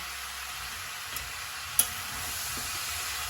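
A spoon stirs chalta (elephant apple) pickle in a wok over heat, giving a low steady sizzle with a couple of faint scrapes and one sharp clink against the pan.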